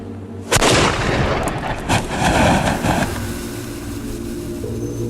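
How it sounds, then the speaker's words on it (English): A historical fire lance, or trump, is fired and shoots out small stones and metal shards: a sudden loud, close blast followed by a roaring, crackling discharge that fades into a lingering rumble. "They will then ignite the second stage charge via the touch hole at the back of the trump, shooting out small stones and shards of metal at the target."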